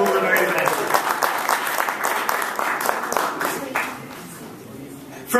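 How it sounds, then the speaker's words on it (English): Audience applause and cheering for the England football team at a UK-India relations awards event, dense sustained clapping from a large crowd for several seconds before tapering off. "let's give a big cheer to the England football team."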